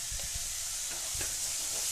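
Onions sautéing in a pan, a low steady sizzle and hiss with a few soft stirring knocks, close and fairly quiet.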